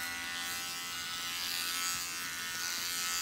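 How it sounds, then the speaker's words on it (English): A GKINIKG 2-in-1 women's electric shaver and bikini trimmer runs steadily on its own, giving a close, even motor buzz with a bright high whine that holds for the whole stretch. "Really great shaver and highly recommended."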